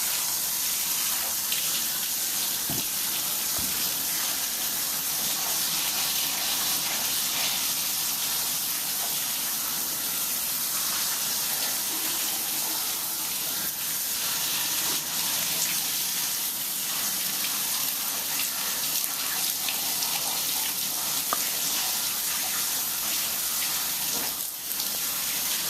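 Tap water runs steadily for the whole stretch, a loud continuous hiss and splash as purple hair dye is rinsed out under the faucet, with no voices.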